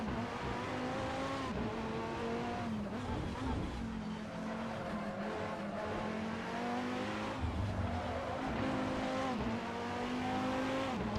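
A race car in Assetto Corsa laps a track, its engine droning steadily with rising and falling pitch as it shifts through gears, running continuously at moderate level.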